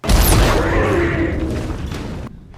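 A deep, loud boom of a cannon shot in a scene from the 2004 film Tremors 4: The Legend Begins rolls out and decays over about two seconds before cutting off.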